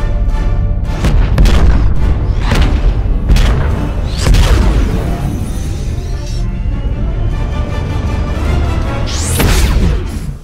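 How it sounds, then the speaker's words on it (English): Star Trek starship warp-jump sonic booms for ships like the Enterprise and Narada: a series of loud, heavy booming blasts with rushing swells and sweeping tails, several in succession, ending in a rising whoosh. "when they go into warp, make it just like this huge sonic boom"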